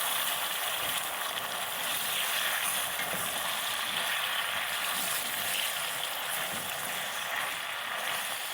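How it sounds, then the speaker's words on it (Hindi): Dates frying in ghee in a pan for a halwa, a steady, even sizzle that holds unbroken throughout, close and fairly loud with no talking. "दो 3 मिनट हो गए हैं खजूर को घी में फ्राई करते हुए।"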